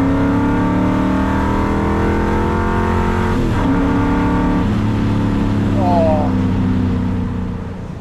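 A Ford GT40 engine accelerating on the road, heard from inside the car as a loud, steady roar with rising pitch through gear changes and a speaker talking over it.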